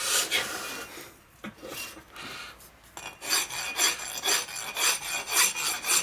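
Hand filing a Harley shovelhead engine case, a series of close rasping strokes, sparse at first and then settling into a steady back-and-forth rhythm.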